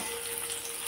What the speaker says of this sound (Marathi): तेल कडकडीत गरम झालं की यामध्ये आपल्याला घालायचा आहे एक मीडियम साईजचा कट करून घेतलेला कांदा